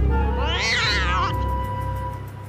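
A cat attacked by a tortoise lets out a loud, wavering, drawn-out meow close by that rises and falls for about a second, then stops, leaving a faint steady hum.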